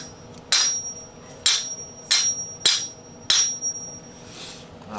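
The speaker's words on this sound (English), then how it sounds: "I might take it outside, bust it with a sledgehammer." Six heavy sledgehammer blows land on an aluminum Saab 9-5 throttle body from a 2001 model, each a sharp, loud metallic crack with a short ringing decay, spaced roughly a second apart.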